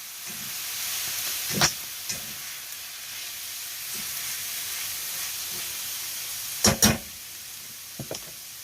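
Chilies frying in a pan with ground cumin, a steady faint sizzle and hiss throughout, broken by a few louder stirring clatters near the start and again toward the end.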